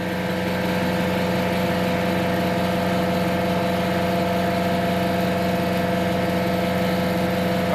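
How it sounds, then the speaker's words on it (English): An air compressor runs in a workshop, a steady, loud motor hum with a constant mechanical drone that holds unbroken from start to finish with no voices. "Air compressor kicked on."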